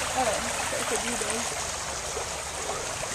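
Creek water flows steadily near a rock formation and small bridge, a continuous broadband rush with voices talking over it.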